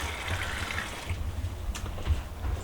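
Water poured into a container of beauty berries before juicing, a steady splashing, filling sound close by with faint low rumble underneath and no talking.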